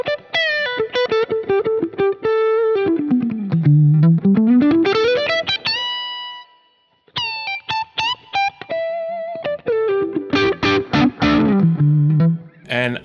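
Slightly distorted electric guitar lead through the Archetype Plini amp plugin, played as ringing sustained notes with wide pitch slides and bends, a short gap midway, then more bright, singing phrases.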